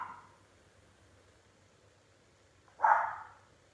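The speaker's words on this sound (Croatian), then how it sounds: "pas laje, on je vanka" A single dog bark outdoors, heard from some distance after a quiet stretch of faint background noise, following a short earlier sound at the start.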